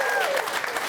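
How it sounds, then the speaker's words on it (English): Stadium crowd at a rugby league match rising to give a standing ovation in tribute to player Nathan Peats, a dense, sustained wash of clapping with a whistle-like tone near the start. "They said after 9 minutes they would stand and applaud as a show of respect for Nathan Peats."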